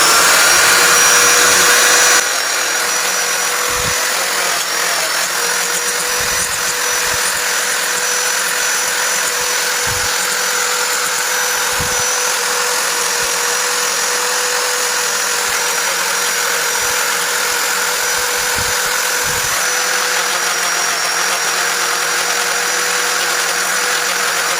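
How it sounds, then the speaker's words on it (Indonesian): Hand sanding with fine 250-grit sandpaper on a homemade sheath for a Bima nail knife, giving a steady, fairly loud broadband scratching that runs throughout with no speech. "kita amplas yang agak halus ya, amplas 250 lumayan halus lah"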